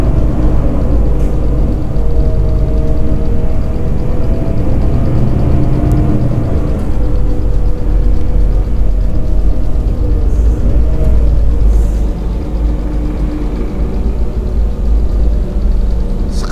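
Scania engine of a Narendra double-decker bus heard from inside while riding, a steady low drone with a faint mid-range whine that shifts slightly as the bus turns, continuous and fairly loud throughout.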